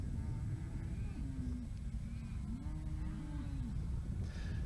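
Cattle in a pen moo several times as the herd is moved up to the feed bunk, long low calls rising and falling over a steady outdoor background.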